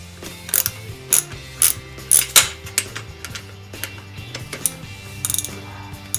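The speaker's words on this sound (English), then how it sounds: "I'm gonna back this right out with a wrench." Ratcheting wrench backing a bolt out of an SSR 125 manual pit bike, a series of quick metallic clicking bursts in irregular spurts, close and moderately loud with no voices.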